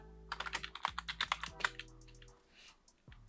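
Someone types on a computer keyboard, a quick run of about a dozen close, crisp key clicks that slows into a few scattered taps over a steady low electrical hum.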